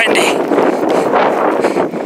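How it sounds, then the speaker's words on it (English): Strong wind gusts buffet the microphone beside a trout stream, a steady loud roaring rush with surging peaks throughout. "It's windy, really windy."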